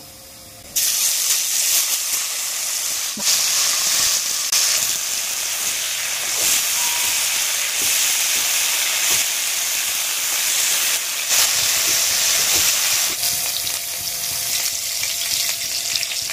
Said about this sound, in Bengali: তেলটা গরম হয়ে গেছে, আমি এবার কপিগুলো ভালো করে ভেজে নেব